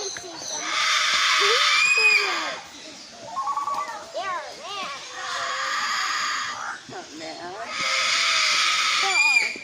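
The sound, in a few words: macaws screaming at Parrot Mountain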